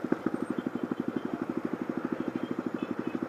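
A motorcycle engine putters in traffic with a fast, even run of low pulses. It sounds close and steady throughout, with no speech.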